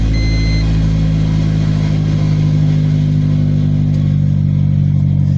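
A car engine idles steadily at close range, with a loud, droning exhaust rumble from a worn resonator and no break in the sound.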